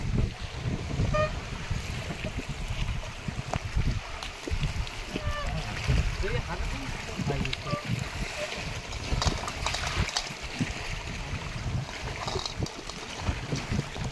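A small boat rocks on choppy river waves in the Sundarbans, with water splashing and slapping against the hull along with wind noise, while a person talks over it throughout.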